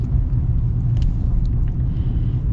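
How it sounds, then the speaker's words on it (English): A lifted 2023 Hyundai Santa Cruz pickup rolls along a road, heard from inside as a steady low tire and engine rumble with a few faint rattles, no talk. "I will say this drives really nice how it is."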